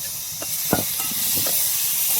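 Chopped tomatoes and onions roasting in a pan for onion chutney, a steady broadband hiss of sizzling with a few soft clicks and pops, close and continuous with no talk.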